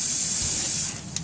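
A spray gun lays a first coat of primer on spots of a 1995 Ford F250 extended cab body, a steady, close hiss that tapers off near the end.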